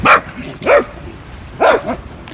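A dog outdoors by the sea in Odesa gives three loud, separate barks: two close together, a pause, then a third, with quiet background between them.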